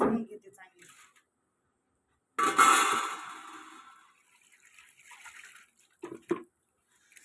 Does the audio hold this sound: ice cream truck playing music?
no